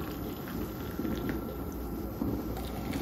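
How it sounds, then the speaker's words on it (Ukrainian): Boiling water poured from a kettle over a teaspoon of hibiscus tea and a teaspoon of turmeric to make natural Easter egg dye, giving a steady close hiss and bubbling wash for the full stretch. "І заливаю тепер окропом"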